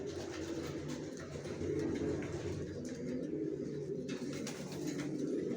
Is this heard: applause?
no